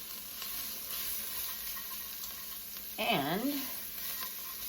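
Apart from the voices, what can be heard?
smoked paprika sizzling in pot while cooking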